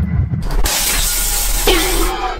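Lettuce frozen in liquid nitrogen shatters with a loud, sharp crack, followed by a burst of crunchy, hissing fragments and a second brittle break near the end. A voice is heard briefly at the start.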